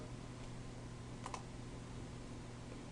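Typing on a computer keyboard while entering a spreadsheet formula, heard as faint, steady key clicks with one brief cluster of louder taps, over a constant low hum, with no talking.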